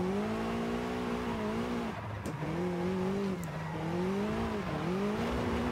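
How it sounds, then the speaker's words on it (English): A tuned car in Forza Horizon 5, its engine droning close and loud through revving swells, with brief sharp blow-off valve hisses and tire noise between shifts, no voices. "I really like the blow-off valve in this thing."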